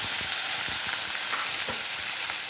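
Squid fries in a pan with a loud, continuous sizzle and hiss, dotted with small crackles and light spatters close by.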